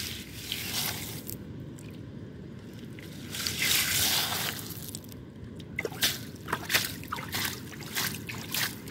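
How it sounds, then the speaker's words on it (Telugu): River stones are rinsed by hand in flowing river water, with close trickling and sloshing and wet squishes of stones being rubbed together. Soft dribbles and splashes come at an uneven rhythm. "ఇట్లా శుభ్రంగా కడుక్కోవాలి."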